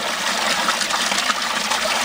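Water gushes steadily from a 70 watt pump into a homemade sieve pre-pump filter, a continuous close splashing rush with no pauses and no talk.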